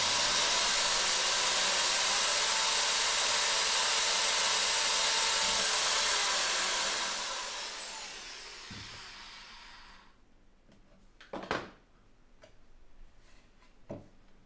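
Power drill boring holes for a dance pad replica, a high whine that slows and fades out, followed by a few scattered knocks and clicks in a quiet room.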